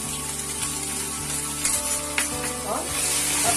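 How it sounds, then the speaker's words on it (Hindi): Veg Frankie stuffing with green chili sauce, stirred in a pan over a flame, gives a steady close sizzle with a low rhythmic hum and a few clacks from the spoon. "इन सबको अच्छी तरह से मैं मिला लूंगी।"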